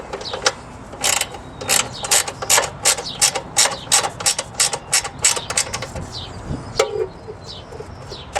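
A ratchet tightens bolts on an oil bath air filter in quick, repeated clicking strokes, close and crisp, pausing briefly near the end before a few final clicks.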